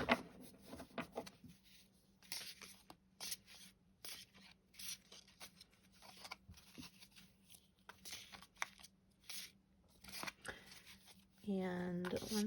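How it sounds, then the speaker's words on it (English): Tarot cards being shuffled by hand during a reading, bursts of riffling and soft slapping, close and fairly quiet, separated by short gaps, with a louder rustle near the end. "once I'm done shuffling"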